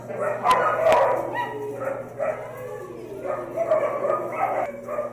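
Puppies yip and bark in quick, overlapping bursts, a busy chorus of high-pitched barking nearby.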